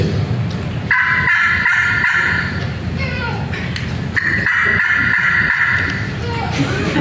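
A hunter imitates a wild turkey's call by voice, with two loud, close runs of rapid yelping clucks, each followed by trailing sounds, set in a reverberant seminar hall.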